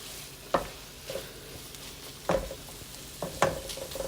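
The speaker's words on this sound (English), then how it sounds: "cooking down that dried oregano and that pesto sauce" Cooked chicken simmers down with dried oregano and pesto sauce in a pan, giving a low continuous sizzle, with three or four distinct clinks and scrapes of a utensil stirring against the pan.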